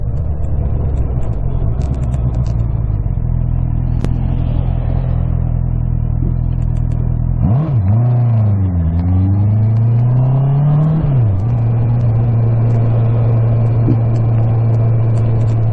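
A Yamaha MT-07 twin-cylinder motorcycle engine idles loudly and close, then revs up and down several times before settling back into a steady idle.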